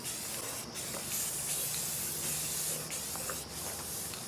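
A coat is sprayed onto a filter, producing a continuous close, steady hiss of spray with slight variations in intensity and no voices.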